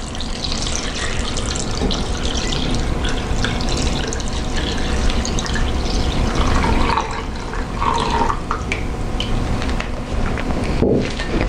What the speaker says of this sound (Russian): И на заключительном этапе приготовления мы добавляем наш свекольный отвар.